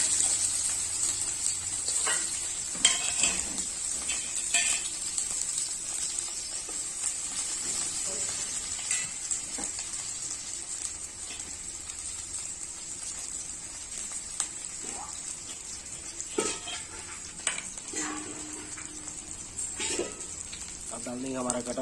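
Chopped onion is stirred into hot oil in a pan, giving a steady, bright sizzle with occasional scrapes and taps of the spoon throughout.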